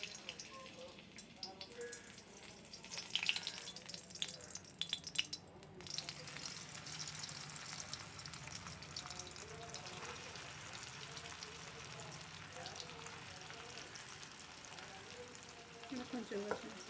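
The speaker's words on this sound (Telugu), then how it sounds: "పన్నీరు ఒక అరగంట అయ్యింది. ఇప్పుడు కొంచెం ఆయిల్లో మనం ఫ్రై చేసుకుందాం." Paneer pieces frying in hot oil in a home kitchen, a steady soft sizzle running throughout with occasional stirring clatter, close but fairly quiet.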